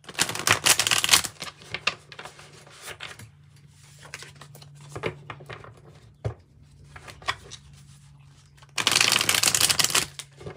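A Light Seer's tarot deck is riffled and shuffled close by, with a loud burst of flicking cards at the start, scattered taps and handling in the middle, and another strong shuffling burst at the end.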